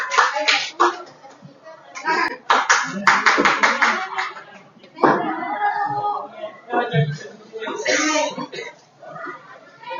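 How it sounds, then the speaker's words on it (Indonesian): Group applause in a classroom after the first team's performance, bursts of hand clapping mixed with loud talking and voices throughout. "Tepuk tangan dulu untuk lomba satu."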